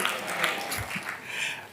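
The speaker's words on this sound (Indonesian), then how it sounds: "Tepuk tangan yang meriah buat Allah kita." Church congregation applauding during a sermon, a brief, muffled wash of clapping with a few distinct claps.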